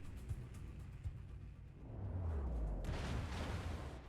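Battleship guns firing in World of Warships, heard as a deep, low rumbling boom that swells after a quieter stretch and then holds as a broad roar with a rush of noise, at moderate loudness.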